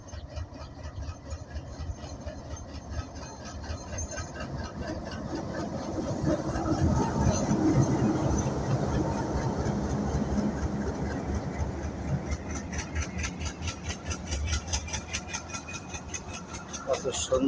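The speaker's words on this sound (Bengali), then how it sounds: "আমরা দেখতে পাচ্ছি ট্রেন চলে আসছে।" Tungipara Express passenger train pulling into a station in the morning, a rising engine and rail rumble that grows louder and closer over the clip, with people talking throughout.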